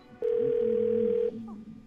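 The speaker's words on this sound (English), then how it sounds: "so if I phone Bumblebee" A telephone dial tone sounds in the Twelve Minutes video game, a steady electronic tone held for about a second before cutting off, followed by faint background sound.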